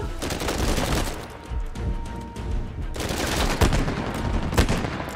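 Rapid gunfire in the video game Uncharted 4, with dense repeated shots forming a busy fusillade for several seconds and sharper cracks standing out near the end, loud and continuous.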